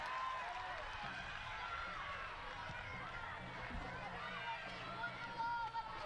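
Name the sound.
football crowd noise at Macedonia Park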